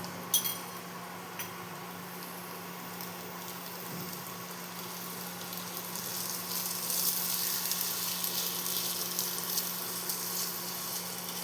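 Potato slices frying in a pan with salt and chopped green chillies, a soft, steady sizzle that swells slightly partway through, with a faint hum beneath and a couple of light knocks early on.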